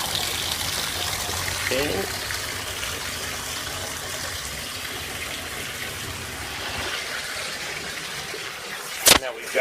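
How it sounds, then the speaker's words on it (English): Warm water runs steadily from a tap into a bathtub, a continuous close hiss and splash of filling water, with one short spoken word and a sharp knock near the end. "you just plug it so that it'll fill up in your bathtub"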